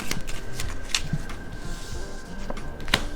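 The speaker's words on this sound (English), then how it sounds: "let me get one more final outcome card" A deck of tarot-style outcome cards is shuffled and a card drawn, giving a few crisp riffling snaps and soft flicks close by in a quiet room, no talk.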